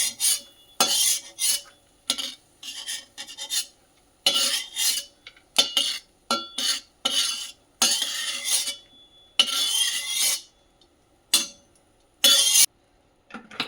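Chironji nuts being lightly dry-roasted in a pan while a spoon stirs and scrapes them, giving bursts of metallic clinks and dry rattling with short quiet gaps between strokes.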